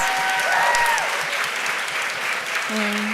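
A room full of people applauds a panel of speakers, thick steady clapping throughout, with voices briefly calling out over it near the start and end.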